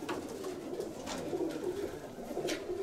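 Racing pigeons at a loft in Kozani coo steadily at close range, a soft layered murmur of overlapping calls from several birds rising and falling over about three seconds.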